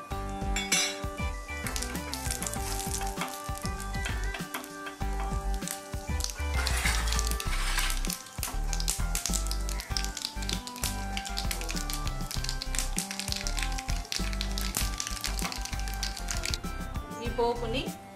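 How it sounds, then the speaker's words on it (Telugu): Spices for tempering hit hot oil while cooking shaniga kattu charu, a chickpea rasam for Ugadi, and sizzle steadily, with clinks and scrapes of metal utensils and a pan over background music. "నూనె వేడెక్కిన తర్వాత పోపు దినుసులు వేసుకోవాలి."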